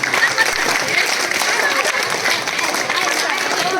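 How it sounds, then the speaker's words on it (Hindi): Steady applause from an audience at a school anniversary celebration for newly selected teachers, dense continuous clapping throughout with a few voices mixed in. "तो एक बार फिर से आप 6 मेंबर के लिए एक बार जोरदार ताली बजा दें।"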